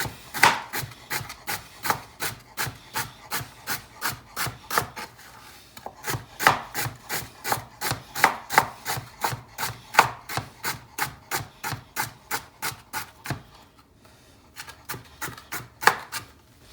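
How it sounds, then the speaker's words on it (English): Knife chopping vegetables on a cutting board for homemade wedding soup: steady, rapid rhythmic chops, close and crisp, with one short pause midway and a slower stretch near the end, no talking. "So I'm gonna chop these up a little."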